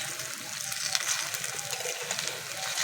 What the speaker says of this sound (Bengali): একটু সময় নিয়ে ভাজতে হবে, কারণ ভেতরটা ভালো করে ভাজা হবে না।